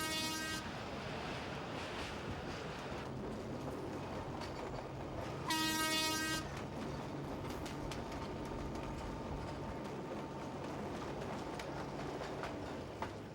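Train on the railway line running out of Dire Dawa, Ethiopia, rumbling steadily throughout with a loud horn blast midway, heard close and without voices.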